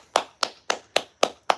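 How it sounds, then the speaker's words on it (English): A man claps his hands six times in a steady, evenly spaced rhythm, each clap sharp and close with short silence between. "the content creator is clapping about himself"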